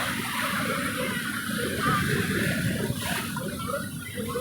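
Sea waves at Digha Mohana wash and churn in a continuous, moderately loud surge of water with no distinct single crash.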